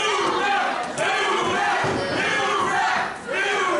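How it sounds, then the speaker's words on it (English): Wrestling crowd at a ladder match chanting and roaring in unison, a loud, sustained wall of voices with rhythmic swells and brief dips. "The crowd calling for a new ref."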